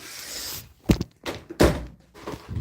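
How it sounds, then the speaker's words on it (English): A door thuds shut close by, with a couple of softer knocks and a rustle of movement around it in a quiet room. "Let me close the door."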